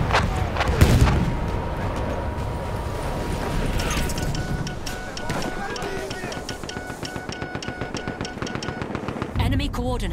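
Artillery and rapid gunfire rumble through a Battlefield 1 battle: dense, continuous shots and blasts with a quick rattling burst pattern building toward the end.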